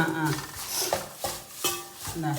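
Beef pickle frying dry in a pan, with mustard seeds crackling, gives soft popping, sizzling and scraping stirring clatter at a steady close level, while someone talks over it.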